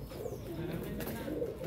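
Pet pigeons coo close by in a steady low throaty murmur that runs without a break through the short moment.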